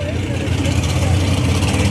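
Bears Performance Machine's Mopar Top Sportsman drag race car during testing at Grand Bend Motorplex, a loud, steady, broadband engine roar that fills the whole moment.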